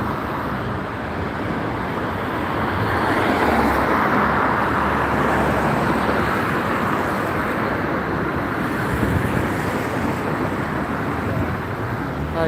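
An Alexander-bodied Scania bus, a 500-series Scania 230D, rolls past with a steady broad engine and road roar that swells in the middle and stays fairly loud throughout, with some wind buffeting and no talking.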